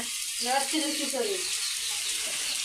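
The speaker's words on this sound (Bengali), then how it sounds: "আর এদিকে আলু আর পটল ভাজি হচ্ছে" Potato and pointed gourd fry in a pan with a steady, moderate sizzling hiss, while a voice briefly murmurs faintly underneath early on.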